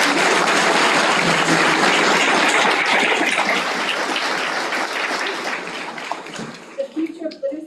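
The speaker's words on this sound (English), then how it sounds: "Let's give a round of applause for our" A round of applause rises at a school board business meeting, broad and steady at first, then thinning and fading toward the end as scattered claps and faint voices remain.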